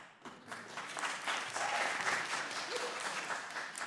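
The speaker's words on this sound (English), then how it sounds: "The audience will please refrain from applause" Applause breaks out in the audience at a heated congressional hearing: a soft, distant wash of clapping with a faint voice or two mixed in, steady for a few seconds.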